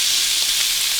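Sausages and fried potatoes sizzle in a pan with a steady, bright crackling hiss, close and continuous with no other sounds.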